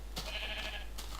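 Sheep bleating in the Minecraft video game, one short bleat near the start and another near the end, fairly clear with no talk.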